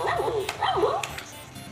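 A FurReal Ricky toy puppy gives electronic barks and whiny yips in two short, warbling bursts, close and fairly loud, with a steady low mechanical hum underneath.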